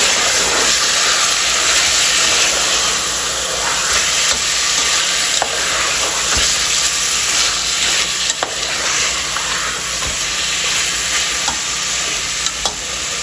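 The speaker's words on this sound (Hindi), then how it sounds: "अब इसको अच्छी तरह मिक्स करेंगे" Chicken with taro root, salt and spices is stirred in a hot pan, giving a loud, dense, continuous sizzle with steamy hiss. Scraping strokes of the spoon come through it, and no one speaks.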